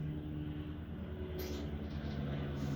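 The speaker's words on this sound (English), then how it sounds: "there's now a plane going over. It's a prop as well, so it's loud" A propeller plane flies overhead, a steady, fairly faint droning hum with layered low harmonics that holds continuously throughout, with no talking.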